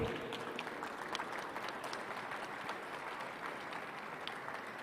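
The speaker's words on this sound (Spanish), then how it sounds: "Un aplauso, por favor." Faint, steady applause from an audience at a Colombian educators' conversation event, a soft even patter of clapping heard from a distance with no voices over it.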